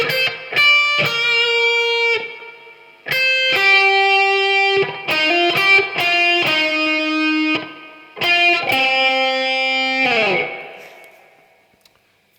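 An overdriven electric guitar plays a pentatonic phrase with hammer-ons in bursts separated by short pauses, with smoothly joined notes and a final ringing note that fades.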